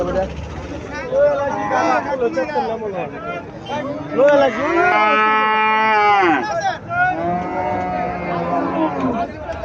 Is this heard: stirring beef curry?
no